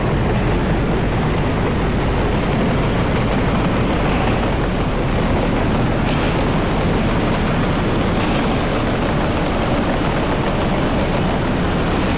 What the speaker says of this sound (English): And here we have our first proper train, an actual train